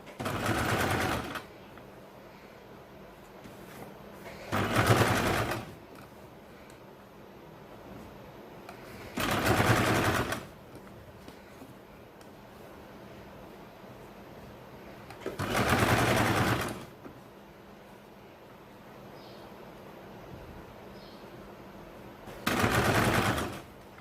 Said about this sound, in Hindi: यहाँ पे इस तरीके से आपको सिलाई लगानी है